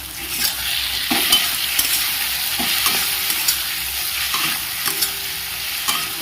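Chicken seasoned with pepper is stir-fried slowly in a pan for spicy chicken pasta, a loud continuous sizzle broken by regular scraping strokes of a spatula every second or so.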